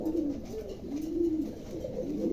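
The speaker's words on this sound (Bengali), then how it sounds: "আমার কাছে আজকে মোট 5 জোড়া কবুতর আছে" Pigeons coo steadily in a pigeon showroom, a soft, continuous murmuring of rolling low calls from several birds nearby, with no talk over them.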